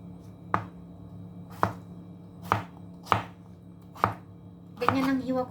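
Knife chopping vegetables for a Greek salad on a cutting board: five evenly spaced crisp thunks about a second apart, then a quicker flurry of cuts at the end, close and clear with no talking.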